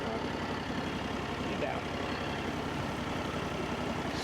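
A mud motor drives a boat through swamp, a steady low engine drone that chugs evenly throughout, with a voice talking faintly under the running motor.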